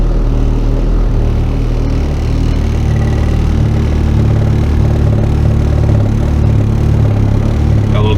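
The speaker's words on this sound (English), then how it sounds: "So just turn on the car and then hit the button. There we go, starts up right away." Honda Civic with a K24 engine, fitted with a sequential AWD transmission, settling into a steady idle just after starting with a cold-start enrichment issue. A loud, even low rumble runs steadily throughout with no voices.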